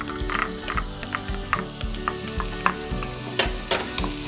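Shallots, garlic, ginger and onions sauté in hot oil for pepper chicken, a continuous crackling sizzle broken by repeated scraping strokes of a spoon stirring the pan, close and clear with no talk.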